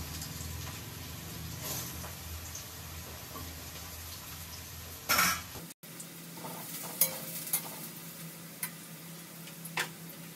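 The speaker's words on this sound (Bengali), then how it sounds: "অলিভ অয়েলটা গরম হয়ে গেছে, তো অজন্তি এবার এক এক করে সব সবজিগুলো ভেজে নেবে। আগে দিয়ে দিল গাজর" Carrots frying in hot olive oil, a steady low sizzle broken by a sharp clatter midway, then quieter crackle with scattered stirring taps, no talking.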